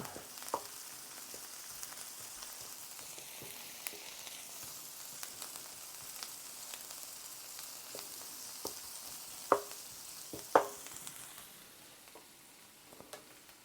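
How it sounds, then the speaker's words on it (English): Minced garlic fries in a pan, a steady soft sizzle running throughout with occasional stirring clicks and two sharper scrapes near the end, fairly quiet and with no voices. "Okay, we're going to add the garlic now. We'll let that cook down a little bit."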